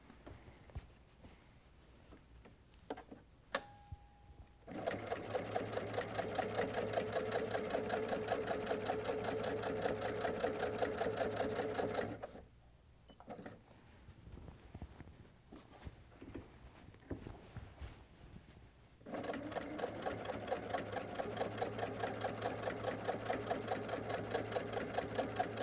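Sewing machine quilting an all-border quilt, its needle running in fast steady bursts of close rhythmic stitching, with a pause and quieter handling between runs.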